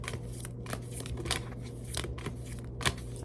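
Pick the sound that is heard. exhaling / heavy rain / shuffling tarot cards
shuffling tarot cards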